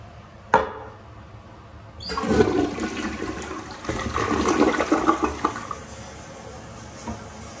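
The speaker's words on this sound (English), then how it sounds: "As a good flush, but boring and modern." American Standard toilet in a barbecue restaurant bathroom in Roanoke, flushed after a sharp click of the handle, a loud close rush and swirl of water lasting several seconds before fading into refill.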